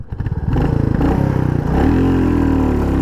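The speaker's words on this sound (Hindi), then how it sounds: "सो फोर्थ गियर में भी ट्राई करते हैं बाइक को चलाने की" A Royal Enfield Classic 350 motorcycle pulls away in fourth gear, its single-cylinder engine thumping loudly and close as the revs climb steadily into a smooth, sustained drone.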